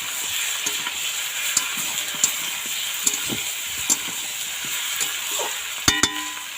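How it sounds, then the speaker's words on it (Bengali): Chicken with potatoes and Malabar spinach is stir-fried in a pan: an even close sizzle broken by regular spatula knocks and scrapes, with a louder double clank near the end and no voices. "মাংসটা কিছুক্ষণ কষে গেলে তারপর পুঁই শাক আলুটাকে ওর মধ্যে দিয়েছি, দিয়ে আবার একটু কষে নিচ্ছি।"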